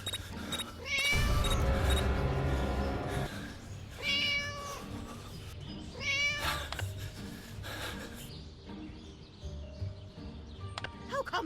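A cat in the video game Scary Teacher 3D lets out a string of loud, drawn-out meows and wailing caterwauls, close and repeated in bursts, with game ambience underneath.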